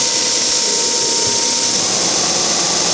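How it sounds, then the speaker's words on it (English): A power sander runs on wood while a Mya-Moe instrument body is being shaped, giving a loud, steady broadband whir with a faint high tone that drops away partway through. No one speaks. "I'm looking down to see where the sander is hit."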